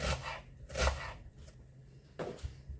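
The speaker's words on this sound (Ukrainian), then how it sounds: "Цибульку я нарізаю тут не дрібненько, не дрібню, а ось так." Knife chopping an onion into quarters on a board for a home-cooked stewed potato and cabbage lunch, a few separate dull thuds and cuts spaced unevenly, fairly close with no talk.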